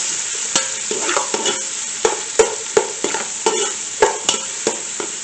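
Garlic and onion sauté in hot oil in a pan with a constant sizzle. Repeated sharp scrapes and knocks of a spatula stir them at an irregular rhythm, close and clear.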